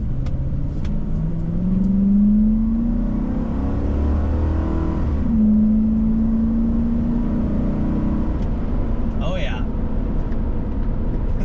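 A 2005 Ford F-150 fitted with a new BRE exhaust revs up twice, its low, soft stock-like rumble climbing and falling as the throttle is blipped, loud and close with some talk over it.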